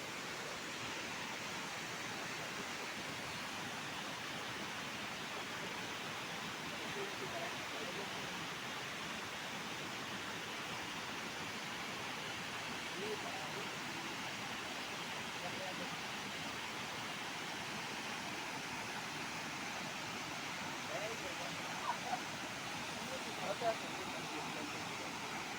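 The Urmagarh waterfall, with water dropping some 200 to 300 feet from the hills, gives a steady, even roar that fills the background. A voice talks over it throughout.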